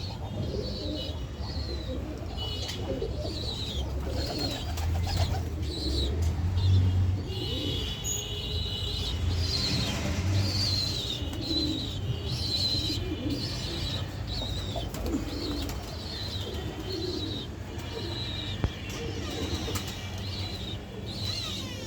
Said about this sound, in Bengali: এই যে আমার মোটু কবুতর